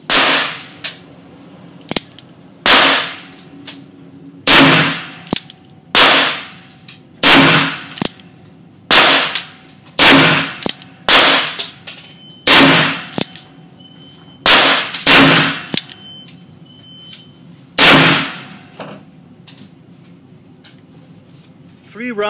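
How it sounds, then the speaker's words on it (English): Ruger pistol with simple fixed sights fired offhand at 12.5 yards, about a dozen loud, sharp cracks spaced a second or two apart, each standing alone against a quiet background. "the Ruger jumps up and shoots a group like this offhand at 12 and a half yards"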